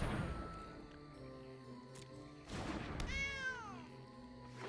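A cat meows once, clearly and fairly close, with a rising then falling cry, over a quiet room hum and a soft thump, while a card game plays on a computer.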